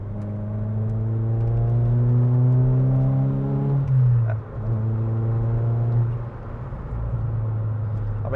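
A Ford Fiesta ST150 with a naturally aspirated engine revving up to about 3,000 RPM, a loud, close, steady droning hum that holds, dips briefly, then settles again.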